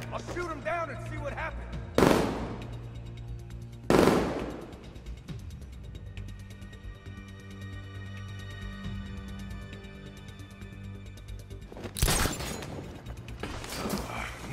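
Gunfire bursts out at an enemy in Batman Arkham Knight, loud sharp volleys at intervals over steady background game music and ambience.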